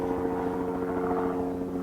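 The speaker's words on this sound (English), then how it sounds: "I apologise for the helicopters above" Scenic-tour helicopters drone overhead in a steady, moderately distant hum with a constant rotor throb, continuous throughout with no talking.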